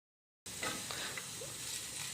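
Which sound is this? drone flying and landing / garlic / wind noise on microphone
garlic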